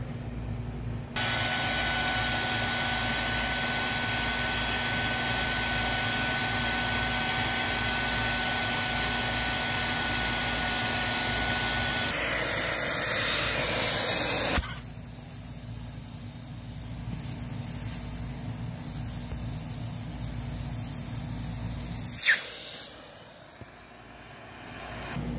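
A Canavac XLS central vacuum runs continuously through a 30-foot, 1-3/8-inch hose, a loud steady roaring whine that shifts in tone midway as airflow changes, then drops with a brief clunk near the end.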